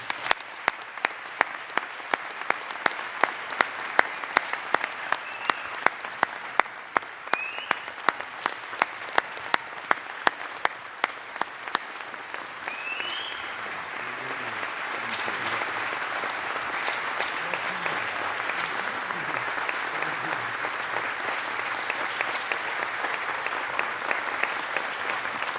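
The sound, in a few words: audience applause at an inauguration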